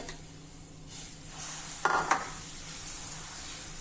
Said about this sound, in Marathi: तवा चांगला गरम झाला की यावर धिरड्यांचं मिश्रण घालूया.